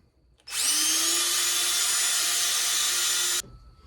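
A drill spins an engine valve held in a Scotch-Brite pad, starting abruptly into a loud, steady high-pitched whir with rasping scrub for about three seconds before stopping cleanly.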